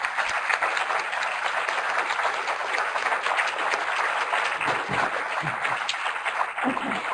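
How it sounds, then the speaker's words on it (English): Steady applause fills a science conference hall, a constant bed of clapping from the seated audience, with a few low voices or movements surfacing toward the end. "So let's give them a big round of applause,"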